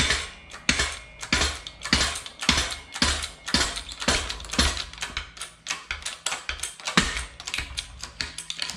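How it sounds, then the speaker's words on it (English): A shop press forces out a universal joint with a steady series of sharp, rapid mechanical clicks and ratcheting knocks, close and fairly loud, keeping an even rhythm throughout. "now we'll get serious and we'll take and press her out"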